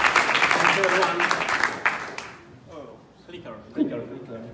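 Audience applause at a tech meetup, a dense wash of clapping for about two seconds that cuts off abruptly and gives way to someone speaking into a microphone.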